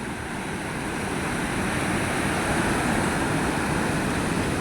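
The flooded Godavari River rushes past in a continuous broadband roar of fast-flowing water, steady and fairly loud, with no voices.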